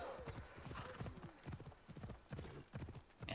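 Horse hooves clip-clop steadily at a quick trot in Assassin's Creed Odyssey, a loud, close rhythm of repeated strikes with a brief whinny-like sound near the end.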